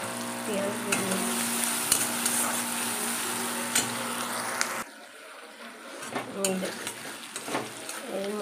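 Potatoes and onions fry in hot oil for a curry, a steady close sizzle with scraping stirs, then a quieter stretch after a sudden drop midway with scattered clinks and renewed stirring.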